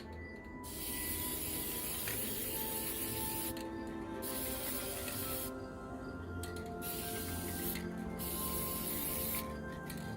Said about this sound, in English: I'm using gold spray paint.